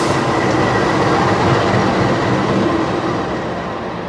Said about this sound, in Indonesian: Jadi itu kan lokomotifnya ada di sana, nanti nempel ke rangkaian ini.